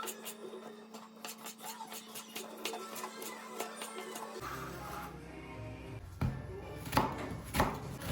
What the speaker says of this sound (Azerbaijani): Sonra soğanı və biberi xırda-xırda doğrayırıq.